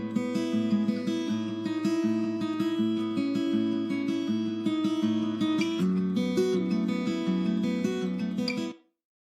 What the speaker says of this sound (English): what I want to focus in on is going to be this acoustic guitar